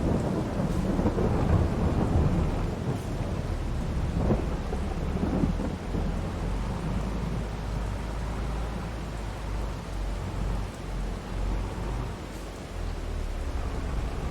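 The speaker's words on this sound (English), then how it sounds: "How long is it supposed to rain for?" Steady heavy rain hisses throughout in the video game Farming Simulator 22, with low rumbles of thunder rolling underneath, continuous and close, no voices.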